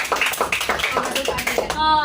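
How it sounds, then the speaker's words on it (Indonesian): Children clap their hands together at a community reading garden event, a quick run of rhythmic claps with voices mixed in, ending in a brief high tone. "Tepuk tangan dong buat kita semua."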